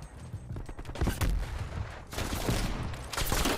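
Gunfire in Call of Duty on the Nuketown map, with loud, close bursts of rapid shots that arrive in two or three clustered volleys, including sniper and automatic fire, and little or no talk.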